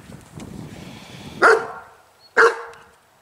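Two sharp, loud German shepherd barks about a second apart ring out close by over a low background murmur.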